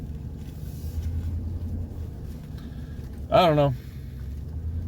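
Vehicle driving along the edge of a field, a low continuous engine and tyre rumble close by, with a brief spoken remark partway through.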